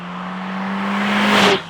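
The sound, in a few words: Mercedes A45S four-cylinder engine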